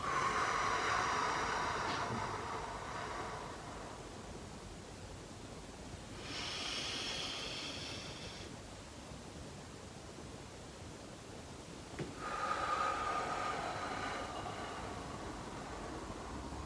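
Deep yoga breathing: three slow, soft airy breaths, inhaling and exhaling at even intervals, close but quiet in a still room.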